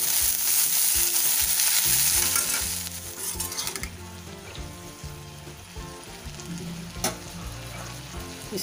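Mixed vegetables with red chilli, coriander powder and garam masala cooking in a kadhai: strong hissing sizzle at first, easing into a softer simmer with occasional stirring clinks.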